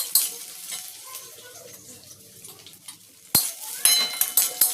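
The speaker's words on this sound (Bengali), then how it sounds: "এখন দিয়ে দিলাম ছ্যাট করে উঠে, ছ্যাট করে উঠে গেল।" Coconut frying in a hot wok, with a continuous close sizzle, scraping stirs and clinks of a metal utensil, and a sudden louder burst of crackling sizzle partway through.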